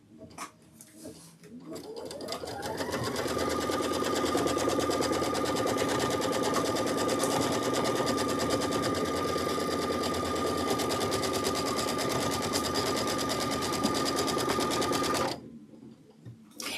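An embroidery sewing machine stitches a quilt block, starting with a rising whir and then running at a steady, loud, fast mechanical rhythm for about thirteen seconds before stopping abruptly.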